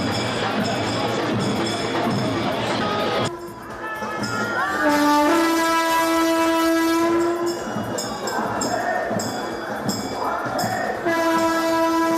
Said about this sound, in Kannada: ಪುಣೆಯಿಂದ ಬಂದು ರೈಲು ಹುಬ್ಬಳ್ಳಿಗೆ ಈಗ ಹೋಗ್ತಾ ಇದೆ